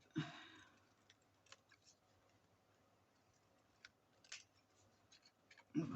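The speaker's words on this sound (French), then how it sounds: "on va jouer du ciseau" Scissors snip scrapbook paper in quiet, sparse cuts, with a couple of sharper louder snips at the start and end of an otherwise hushed stretch.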